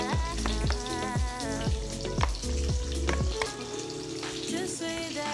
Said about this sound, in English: And let's stir it. Make sure that butter and seasoning is mixed.